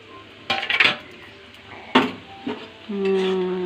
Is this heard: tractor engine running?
no